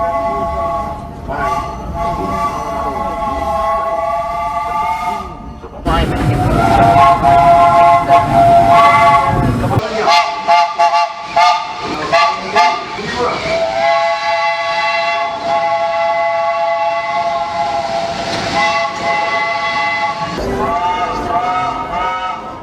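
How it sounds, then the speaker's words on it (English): A loud, chord-like Lunkenheimer 3-inch three-chime steam locomotive whistle sounds in several long blasts with brief gaps, its layered tones ringing together over background rumble. "The locomotive also came equipped with a Luckenheimer 3-inch 3-chime whistle."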